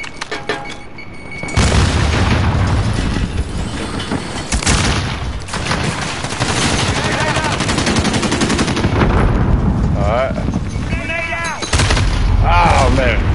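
Dense automatic and single gunfire from the video game Call of Duty Modern Warfare, loud and continuous with booming impacts throughout, overlaid by faint in-game voice chatter.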